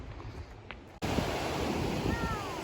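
Steady roar of ocean surf rolling onto a sand and driftwood beach in Olympic National Park, loud and continuous with some wind buffeting the microphone.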